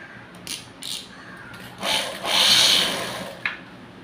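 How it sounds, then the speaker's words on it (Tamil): A sewing machine stitches around the neckline of a princess-cut blouse, its short whirring runs building into a steady, closer burst of stitching, with no voices over it. "கழுத்து தைக்க போகிறோம்"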